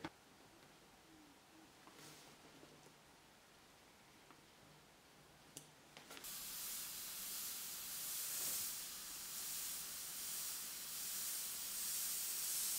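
An airbrush sprays paint onto an artwork. After a quiet stretch with a few small clicks, a soft, steady hiss starts and continues evenly to the end, close and alone.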